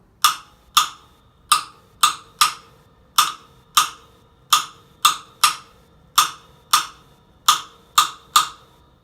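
Sharp, hollow knocks on a jam block play a rumba clave pattern, a repeating syncopated rhythm of about seventeen distinct strikes with short decaying tails, close and alone over faint background.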